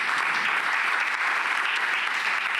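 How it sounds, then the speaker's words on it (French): A hall audience applauds heavily during a prize and cheque presentation at the Unicancer Innovation Awards ceremony. Dense, continuous clapping runs unbroken and loud throughout. "remettre le prix, remettre le chèque sous les applaudissements nourris de la salle"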